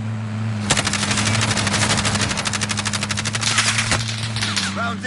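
Rapid automatic gunfire in a video game, a dense burst of sharp repeating shots lasting several seconds, loud and close over a steady background hum.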